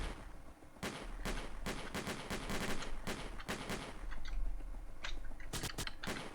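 Rapid bursts of video game gunfire crack over a steady low rumble, with scattered single shots and quick clusters throughout.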